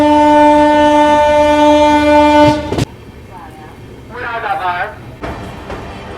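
A long, loud train horn blares from an approaching Gorakhpur–Anand Vihar Weekly Express at a station and then cuts off sharply, followed by quieter rail rumble and brief voices.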